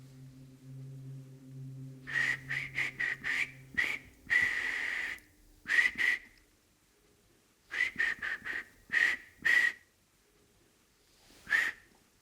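Someone whistles a halting, uneven tune in short bursts and held notes with gaps of silence between phrases. A low hum sits underneath at first.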